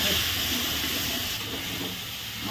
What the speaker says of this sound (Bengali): মাছের মাথা ভাজা হচ্ছে